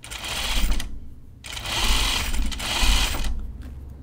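Sewing machine stitching a French seam on a dress, three quick close bursts of rapid mechanical whirring with short pauses between them, no talking.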